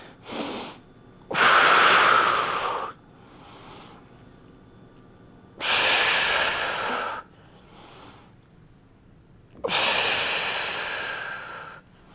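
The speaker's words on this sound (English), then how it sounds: "Then we inhale down and exhale up around" A person breathing deeply during a Pilates mat exercise, with three long loud forceful exhales and softer inhales between them, close to the microphone, alone without talk.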